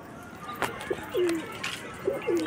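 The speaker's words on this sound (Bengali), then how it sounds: "দেখতে পাচ্ছ এখানে সব পায়রাই বাইরে বেরিয়ে পড়েছে আমার" Pigeons gathered outside their loft coo in a few short, soft calls against steady background noise, with no talk over them.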